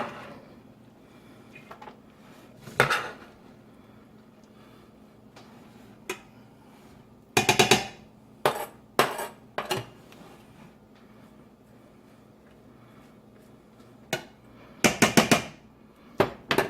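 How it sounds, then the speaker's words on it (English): Cabbage being stirred in a pot for bigos, heard as scattered clanks and scrapes of a utensil against the pot, coming in short clustered bursts between quiet stretches. "each time I'm going to add more cabbage, I'm going to stir so that all this is mixed fairly evenly."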